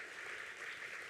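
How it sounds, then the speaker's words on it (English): Steady, dense applause from a gala crowd, sustained and even throughout, heard from a distance at low level with no voices standing out. "Ladies and gentlemen, give those people a big round of applause"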